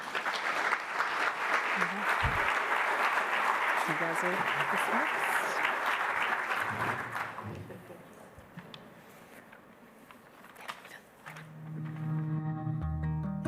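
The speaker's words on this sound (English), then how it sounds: "I just want to give them one more round of applause" Conference audience at a conservation summit applauds panel speakers, a broad steady wash of clapping for several seconds that fades out as a voice speaks briefly near the end.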